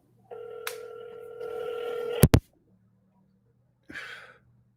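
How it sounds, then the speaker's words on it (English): Call tones come through a phone on speakerphone: a held electronic tone, a short sharp burst of clicks, a pause, then a brief fainter blip, close and clear with no talking over it. "I'm calling him on speakerphone."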